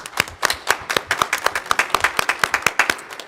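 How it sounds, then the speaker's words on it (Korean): A church congregation at a Sunday worship service in a Presbyterian church in Atlanta claps together, a brisk, fairly regular run of sharp, distinct hand claps from a modest group, close and clear with no talk. "우리 하나님께 영광의 박수 올려드리겠습니다"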